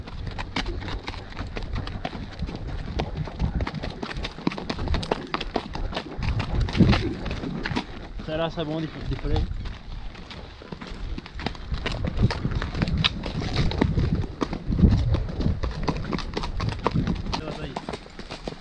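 A mare's hooves clip-clop steadily on hard ground while people talk over them, with a horse's whinny briefly cutting through partway.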